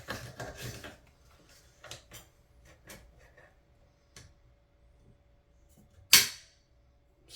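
Rifle bolt lugs on a JP bolt working against the barrel, giving sparse small metallic clicks and ticks followed by one sharp, louder snap near the end, close and otherwise quiet.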